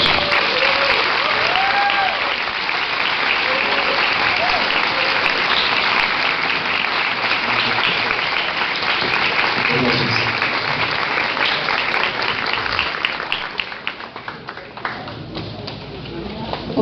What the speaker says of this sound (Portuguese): Eu queria pedir muitos aplausos para essas meninas e meninos.